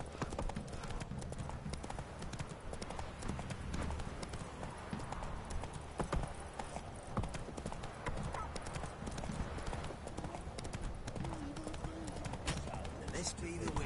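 Roach, a horse in The Witcher 3 video game, gallops with rapid, steady clip-clop hoofbeats throughout, mixed with game ambience, a brief whinny and voices talking.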